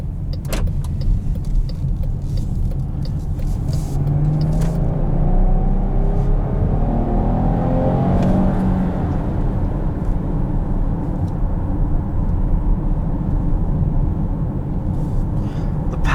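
A 2020 Chrysler Pacifica minivan with a Pentastar V6 engine driving, heard from inside as a continuous low road and engine rumble with a brief rising engine note in the middle.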